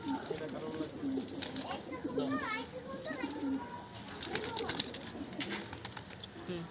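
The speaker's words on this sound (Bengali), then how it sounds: "সাপচিল স্টাইলের কবুতর, নর, লাল পাত্তি" Male Sapchil-style pigeons with red bars coo in a loft: low, repeated rolling coos run steadily throughout, with children's voices and chatter in the background.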